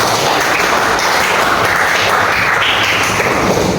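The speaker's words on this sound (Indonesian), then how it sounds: "Ya tepuk tangan dulu." Classroom applause from a sociology class, a steady dense patter of many hands clapping at once, continuous and fairly loud throughout with no pauses.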